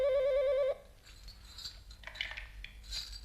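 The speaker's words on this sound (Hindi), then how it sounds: "तुम्हारा फोन है" A telephone rings with a warbling electronic trill, loud and alone for under a second. It then stops and leaves quiet room noise.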